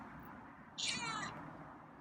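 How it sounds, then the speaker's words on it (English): A single drawn-out cat meow, fairly close and clear, rising above a steady low background hum. "he meowed"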